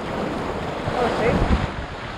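Whitewater rapids on the Temagami River churn in a steady, loud roar with wind buffeting the microphone, close by and continuous throughout.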